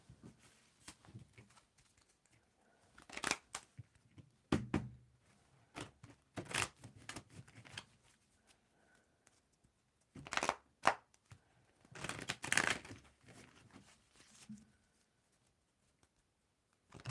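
Tarot cards are shuffled and riffled close by in several short bursts of papery flicking and slapping, separated by quiet pauses.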